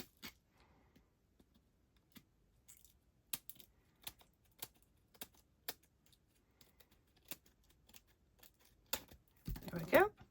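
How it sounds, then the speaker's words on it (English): Small scissors trim a paper card in a series of sharp, quiet snips and clicks spaced out over several seconds, ending with a brief louder rustle. "I think I need a smaller pair of scissors just to trim that."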